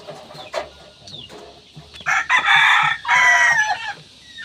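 Chickens with chicks and their mother hen, a rooster crowing loudly in two long calls, with scattered clucks and peeps before it, close by with no talk.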